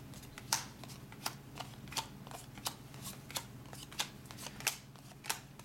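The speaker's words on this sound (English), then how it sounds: "I take the remainder of the player deck and distribute the cards evenly." Cards from a Pandemic board game player deck dealt one by one onto piles on a table, a steady run of soft, crisp snaps and flicks close by, about two per second, with no talk.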